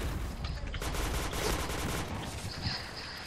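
Dense automatic gunfire from the shooter game PointBlank, a continuous loud burst of rapid shots with no gaps, close up.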